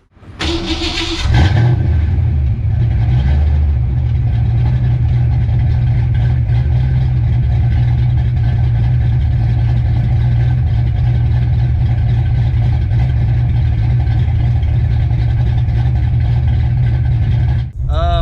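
A car with a newly installed exhaust and an SVE throttle body starts up with a sharp burst, then holds a loud, steady, deep engine drone near the microphone at wide open throttle.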